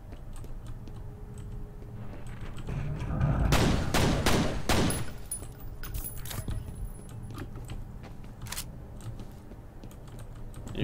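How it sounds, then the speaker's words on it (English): Pistol fire in the shooter game F.E.A.R., a dense burst of loud sharp shots in the middle, with scattered lighter clicks and taps around it, no talking. "I have 10 fucking shots left with this pistol"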